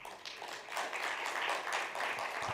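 An audience applauds the panelists at the close of a childhood immunization conference session, a dense, steady clapping that carries across the whole stretch at moderate loudness.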